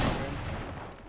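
A grenade blast in Rainbow Six Siege hits hard at the very start, then a long rumbling decay fades over about a second, with a thin steady tone ringing underneath.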